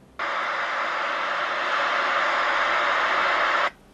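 CB radio with its squelch switched off, early in the morning, gives a loud, steady wideband hiss that starts abruptly, holds evenly for about three and a half seconds, then cuts off sharply.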